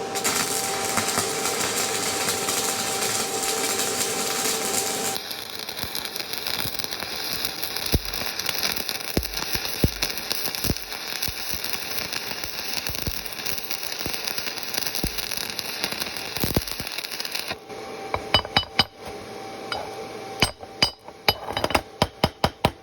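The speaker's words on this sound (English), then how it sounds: "we're just going to weld a bead along the top of that plate there" Bestarc MIG 145 welder set at 24.7 volts running a bead along the top of a steel plate, a steady crackling hiss that continues for many seconds at close range, with sharp clicks and pops breaking through.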